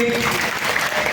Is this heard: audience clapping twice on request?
yes